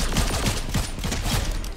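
Rapid gunfire from a gun in a video game, a steady rattling string of close, loud shots with no talk.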